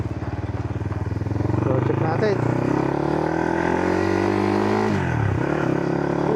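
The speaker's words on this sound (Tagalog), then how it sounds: "Bigyan tayo ng pagkakataong i-testing yung motor niya." A motorcycle engine rumbles close by in a steady idle, then its throttle opens around the first second into a sustained, louder rev that dips briefly near the end, with a few spoken words over it.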